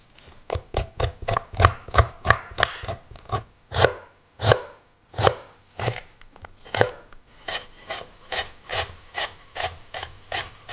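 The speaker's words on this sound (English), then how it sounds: "we're just going to use the back of a small teaspoon. And we're just going to scrape that skin off" Back of a small teaspoon scraping the skin off fresh ginger: a steady run of short, close rasping strokes, about two per second, with no talking.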